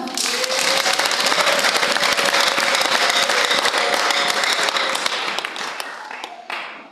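Loud, sustained applause from a church congregation, dense clapping filling the whole stretch before tapering off near the end.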